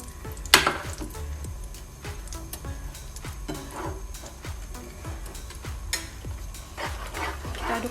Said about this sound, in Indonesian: Aduk hingga rata.